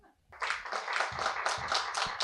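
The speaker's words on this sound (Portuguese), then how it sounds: "A plateia se despede com aplausos." Audience at a theatre talk applauding at the close, a brief dense patter of clapping hands starting after a short quiet moment and continuing steadily, fairly close and without voices.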